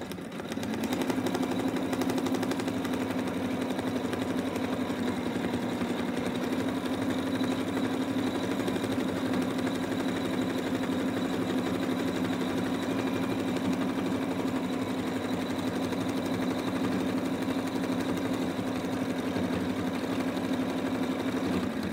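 An embroidery machine stitching an in-the-hoop fabric mouse toy, sewing the tail placement line with a steady, continuous mechanical hum and rapid needle chatter at constant volume throughout, with no voices.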